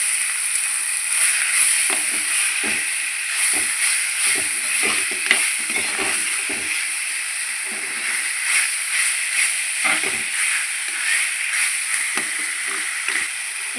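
Chicken stir-fried in a pan for a Thiruvananthapuram-style chicken thoran, a steady sizzle with repeated scraping and stirring strokes of a spoon throughout, close and without talk.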